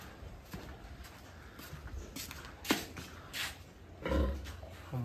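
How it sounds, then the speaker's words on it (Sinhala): Pigs in a pen on a university campus animal farm, with scattered grunts, shuffling and snorts over quiet outdoor background, a few louder bursts close by. "මෙතන ඌරෝ ඉන්නවා."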